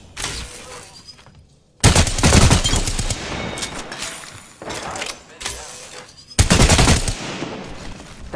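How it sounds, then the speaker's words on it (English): Close automatic gunfire in an Apex Legends firefight comes in heavy, rapid bursts. Three sharp onsets and glassy, shattering impacts break up quieter stretches, and faint voices sit under the shooting. "I am taking fire, friends."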